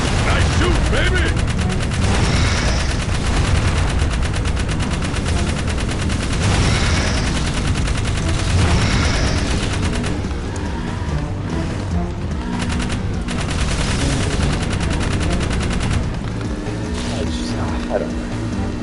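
Gunfire from the video game Jak 3, dense rapid bursts and booms filling the clip loudly and continuously over a busy game soundtrack.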